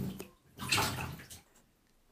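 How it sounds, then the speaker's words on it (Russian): A child sits in bathtub water at home, producing a few soft splashes and sloshes with a louder burst of splashing midway, then quieter water movement and a final small splash. "Вот сидит ребенок в воде, любит воду."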